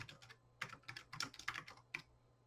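Soft, quick clicks of typing on a computer keyboard while entering a QR code name, in irregular bursts, close by and fairly quiet with no talking.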